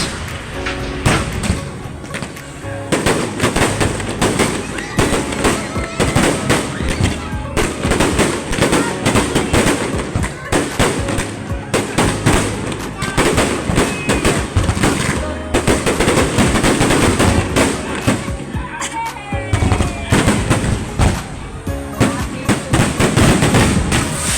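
Rapid crackling bursts and booming explosions of a fireworks display at Mall of Asia, Pasay City, Philippines, fill the air continuously, with dense popping and occasional crowd voices underneath.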